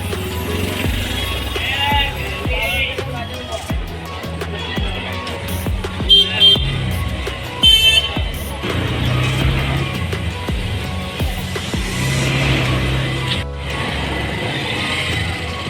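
Ride in an auto rickshaw through town traffic, with a steady engine rumble and rattling close by, scattered horn toots from surrounding vehicles and brief bits of voices.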